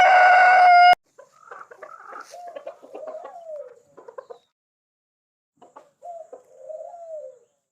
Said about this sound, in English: Look at the chickens trying to get to me.